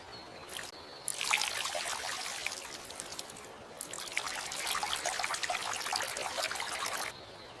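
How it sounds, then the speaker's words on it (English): Water pours from a container onto houseplants in a living room, a quiet trickling splash in two runs separated by a short pause, heard alone. "I water the plants."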